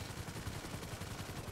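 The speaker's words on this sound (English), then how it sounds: "he's shooting at me" Faint, rapid gunfire rattles continuously in a GTA RP shootout, with dense overlapping shots and no talk.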